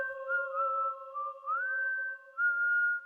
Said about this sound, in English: the first whistle pierced the night air